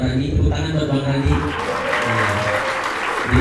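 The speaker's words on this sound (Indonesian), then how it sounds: "Tepuk tangan buat Bang Randy" Audience applause at a seminar rises in a steady burst of clapping, with voices and talk running over it.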